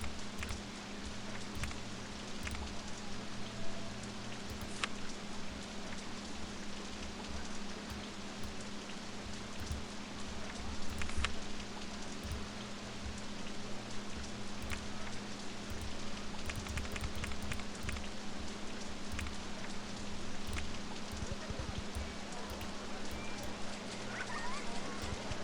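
Steady rain in the video game OpenRCT2 hisses continuously with occasional sharper drops, a dense wash of sound over a low background hum, no voices.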